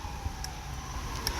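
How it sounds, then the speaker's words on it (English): Emergency vehicle sirens heard from a distance, a faint steady wail with a low traffic rumble beneath it, with no talking. "So, yeah, the sirens now."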